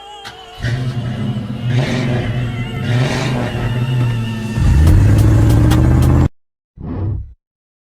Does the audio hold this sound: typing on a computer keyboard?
no